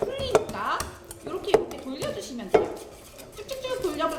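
A whisk works softened butter in a mixing bowl at a family cooking class, scraping and clinking with a few sharp taps against the bowl, moderately quiet with light background activity.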